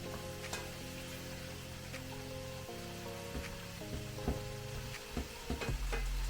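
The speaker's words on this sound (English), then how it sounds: "put a top on this pan and just kind of let them saute a little bit" Food sautéing in a covered pan during Thanksgiving meal cooking, a constant close sizzle with scattered pops and clinks of stirring toward the end.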